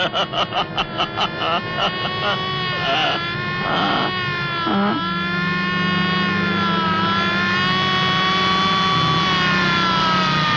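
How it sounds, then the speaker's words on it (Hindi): A loud police siren wails in a long, sustained rising and falling tone, with rapid pulsing at first and an engine rumbling underneath, in a comedy film scene. "और ये सायरन है, ये कर रही है पुलिस हवा से बातें।"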